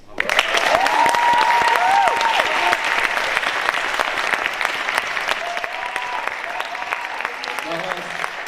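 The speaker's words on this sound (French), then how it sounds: "applaudissez tous ceux aujourd'hui qui ont permis de faire vivre l'éloquence" Loud, dense applause from a packed audience at the Bordeaux final of an eloquence contest, sustained and even with scattered cheers, gradually easing toward the end.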